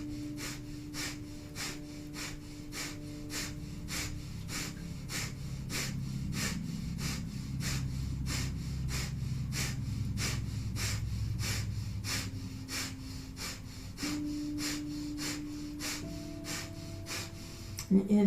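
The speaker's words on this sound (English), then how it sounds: "Last 30 seconds, breath of fire." Rapid, rhythmic breath-of-fire panting during a Kundalini yoga set, sharp forceful exhales repeating steadily for the full stretch, close and loud, over a sustained low drone of background music.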